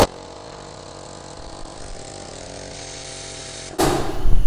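Air compressor with a leak, switched on and hissing steadily close to the microphone, a broad continuous rush that runs unchanged and then jumps louder and harsher near the end.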